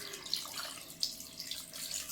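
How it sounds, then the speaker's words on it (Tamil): Water streams and splashes into a curry pot on the stove, a steady close pour with small drips and spatters. "இது வேகிறதுக்கு தேவையான அளவுக்கு தண்ணி சேர்த்துடலாம்."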